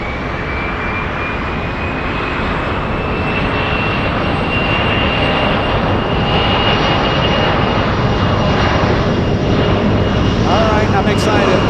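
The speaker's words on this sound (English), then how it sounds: "JetBlue 115 touching down right now, slowing down on the parallel runway" A JetBlue passenger jet from JFK touches down and slows on the parallel runway at San Francisco airport, a loud, steady engine roar with whining reverse-thrust tones filling the whole stretch.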